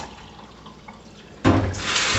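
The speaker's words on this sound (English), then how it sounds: "I'm going to go ahead and pour them off, and I am going to give them a good rinse." Vegetables such as celery, carrots, cauliflower, cherry tomatoes and peppers are rinsed in a strainer under a kitchen tap. A faint hiss gives way midway to a loud, steady gush of running water splashing through the strainer.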